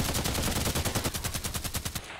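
Rapid automatic gunfire in the shooter game Contract Wars, a fast even burst of about two dozen sharp cracks lasting two seconds before cutting off, fairly quiet overall.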